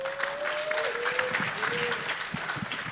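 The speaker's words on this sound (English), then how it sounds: "Let's give it up for incredible African women, please. A big round of applause." Audience applause fills a panel event on Africa's displacement crisis: steady, dense clapping throughout, with a thin whistle sliding in and out over the crowd.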